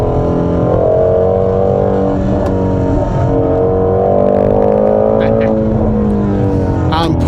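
A 2017 Ford Mustang GT350 accelerating hard, its engine note climbing steadily through the gears in a loud, sustained rising drone heard from inside the car, with a person talking over it.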